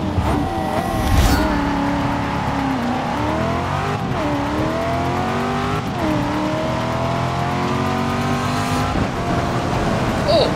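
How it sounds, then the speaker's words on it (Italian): Engine of a 2015 Chevrolet Corvette Z06 at a race start in Forza Motorsport 6, a loud continuous roar climbing through the revs with repeated rising sweeps and brief dips at gear changes, close and dominant with no talk. "Hai sentito come il motore subito è andato su in giri"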